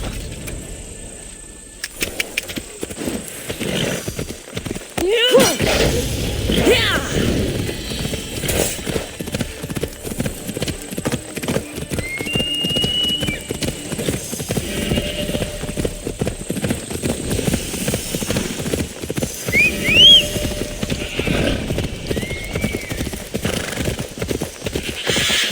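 A horse gallops in Assassin's Creed Odyssey, with rapid, steady hoofbeats running close and loud for most of the stretch and an occasional whinny breaking through.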